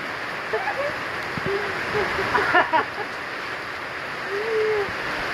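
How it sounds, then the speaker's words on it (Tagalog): Rain falls steadily as a broad, even hiss, with faint voices and a few brief bird-like chirps breaking through in the middle. "Ulan."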